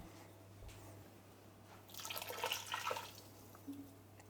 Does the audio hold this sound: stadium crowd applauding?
no